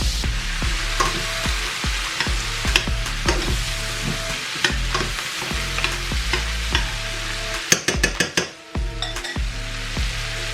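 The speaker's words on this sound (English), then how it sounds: "so we added in a half a stick of butter. Start the deglazing process now" Onions and mushrooms sizzle in half a stick of butter in a pan during deglazing, a loud continuous fry punctuated by repeated utensil scrapes and clanks, with a quick cluster of metallic taps near the end.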